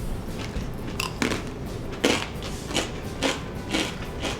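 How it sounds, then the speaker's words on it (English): Hard food is crunched between the teeth in a string of sharp, irregular bites, close and fairly loud, with no talk. "I can hear you crunching."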